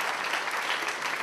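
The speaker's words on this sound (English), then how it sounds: "Let's all give a round of applause for Jan." A lecture audience gives a brief burst of steady, even applause, heard close and moderately loud.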